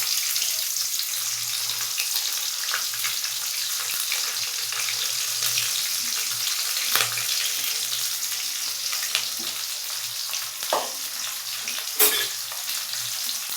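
Onion, green chili, cardamom, cinnamon and bay leaf sizzle steadily in hot oil, a continuous bright hiss with occasional scraping stirs and a few sharper clinks, no voices heard.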